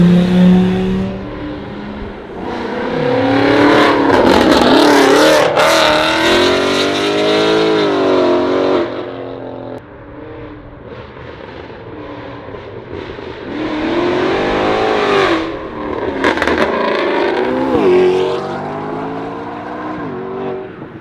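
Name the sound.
traffic, cars revving and passing by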